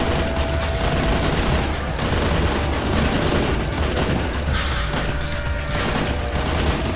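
Gunfire in the shooter game Painkiller, with dense rapid bursts of shots and impacts pounding on without a break for seven seconds and no talking.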